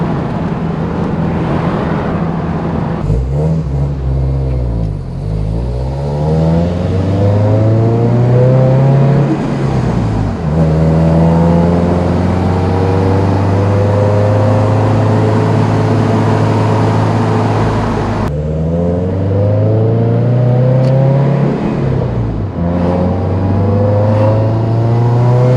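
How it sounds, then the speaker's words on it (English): A Subaru WRX STI fitted with an EG33 flat-six revs hard through repeated climbing pulls, loud and close, with sharp drops between runs and turbo whooshes over the engine note. "It makes some absolutely wild turbo noises"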